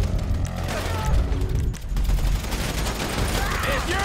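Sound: gunfire shootout in GTA 5 video game

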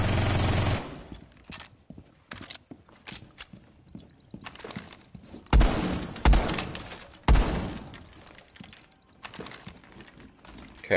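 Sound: rapid gunfire in the video game Rainbow Six Siege

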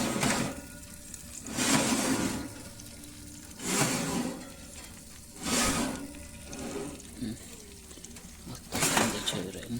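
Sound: food sizzling on a wood stove

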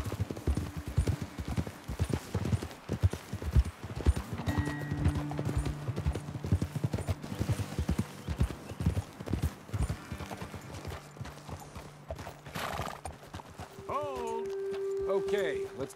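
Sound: horses' hooves clip-clopping in Red Dead Redemption 2, video game

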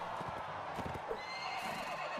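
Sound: horse neighing and hooves in video game Mount & Blade Warband

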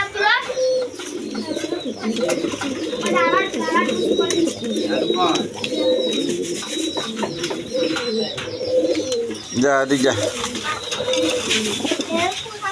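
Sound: high-flying Kaldom pigeons cooing

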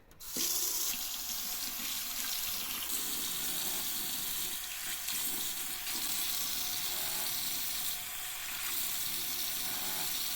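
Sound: tap water running while washing a child's hands

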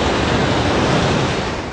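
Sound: ocean waves on Kuta beach, Bali

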